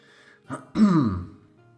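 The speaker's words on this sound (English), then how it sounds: "I apologize in advance if I'm coughing again, but it's not going away." A person gives a short cough followed by a rough, throaty throat clear, close and fairly loud, with quiet before and after.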